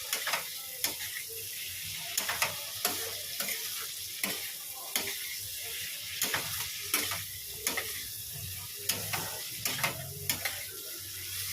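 Spices for a fish head curry, with Kashmiri chilli powder and ground green chilli, sizzle steadily in hot oil while a ladle scrapes and stirs the pan in regular close strokes.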